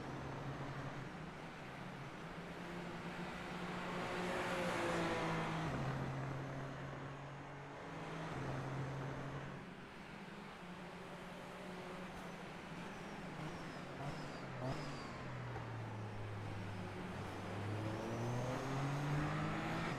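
F1 race cars lap Circuit de Barcelona-Catalunya in the iRacing simulator, with several high-pitched engines whining, shifting up and down in pitch as they pass one after another for twenty seconds.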